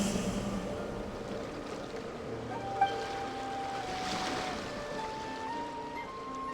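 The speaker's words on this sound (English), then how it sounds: "Go to where you can hear the sound of the waves." Ocean waves wash steadily in the Genshin Impact video game, a soft continuous surf with gentle swells and a faint background tone, moderately quiet and without speech.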